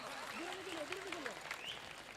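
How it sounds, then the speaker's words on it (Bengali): An audience at a school's 2023 annual function at Santiniketan Academy claps in a dense, continuous burst of applause, with a voice speaking over it. "জানাই একটা জোরে করতালি"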